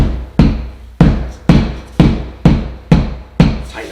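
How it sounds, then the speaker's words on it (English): Rubber side of a mallet tapping hardwood floorboards into a tight joint during a floor install, eight evenly spaced firm knocks about half a second apart, close and loud with no talking. "if you can't hit it over here because there's no room, you take the rubber side of the mallet and"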